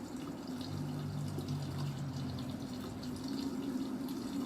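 An automatic washing machine fills with water on its first wash from its own hot and cold supply, a faint steady rush of running water over a low hum, with no talking.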